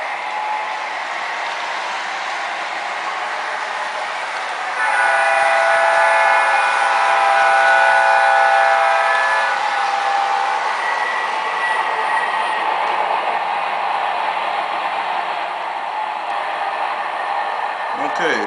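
An MTH Premier CSX AC6000 model locomotive runs steadily on a loud, constant motor rumble, with a sustained horn-like tone rising over it for several seconds before the running sound carries on alone.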